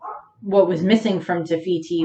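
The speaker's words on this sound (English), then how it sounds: "you can hear the dog barking in the background" A dog barks and whimpers indoors behind a person speaking, its short yips and barks mixed under the steady talk.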